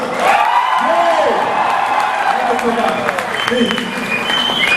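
A crowd at a Teachers' Day celebration claps loudly and continuously throughout, with scattered cheers and whoops rising over the applause.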